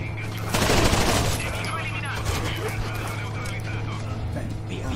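Bursts of gunfire in the video game Rainbow Six Vegas 2 during a terrorist hunt mission at a rail yard. A loud volley rings out early, then a steady crackle of shots continues under voices.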